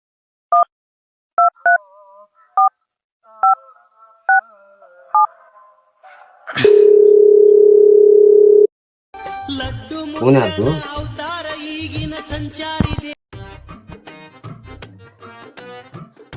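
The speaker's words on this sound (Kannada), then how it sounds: "ನಂಬರ್ ಐತಿ, ಫೋನ್ ಹಚ್ಚೋಣ." A telephone being dialed: a run of short keypad tones, then a sustained steady tone, followed by a busy stretch of other phone sounds.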